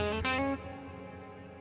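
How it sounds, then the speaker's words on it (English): Reverb tail hanging on a recorded, effected electric guitar solo in a metal mix, a sustained distorted note that drops at about half a second and then lingers and fades slowly with no voice present. "I just wanted the reverb to sort of linger"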